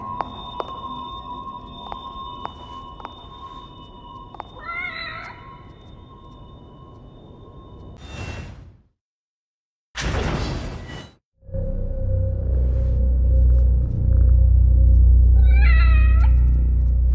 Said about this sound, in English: Oh, there's a cat there.